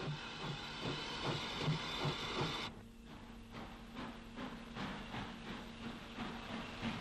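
A narrow gauge Irish steam tank engine, number 4, waits with a southbound train of coal empties at Belturbet station. It makes a rhythmic mechanical chuffing that stops partway through, leaving a faint steady hiss and hum.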